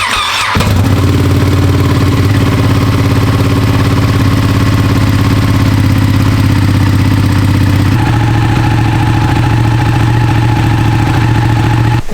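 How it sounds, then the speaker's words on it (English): Ducati 959 Panigale motorcycle cold start, a loud close engine firing up and settling into a steady, throbbing high idle that drops slightly partway through. "So here's the cold start of the 959 Panigale."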